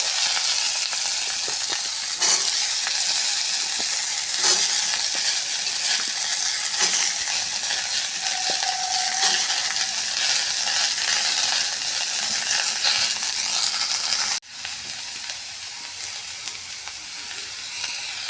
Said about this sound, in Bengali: ফোড়ন ভাজা হয়ে গেছে এবারে কাঁচা কুমড়োগুলো দিয়ে দেবো